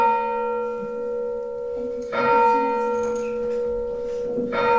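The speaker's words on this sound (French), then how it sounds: "Elle ne sonne pas si mal, cette cloche." A church bell rings with a sustained resonant hum, then two loud fresh strikes about two seconds apart, each swelling and slowly decaying, with no talking over it.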